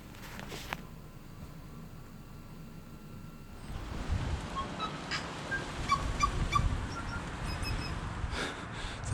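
Scattered tui bird calls, a mix of short chirps and clear ringing notes, sound over a soft rushing background, with no voices.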